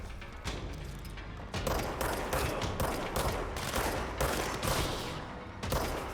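Rapid bursts of gunfire in the video game Control, shots coming in dense clusters with brief pauses between volleys, loud and close with no voices over them.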